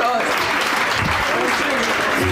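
A church congregation at a thanksgiving service gives a steady round of applause, loud and continuous throughout, with voices mixed in.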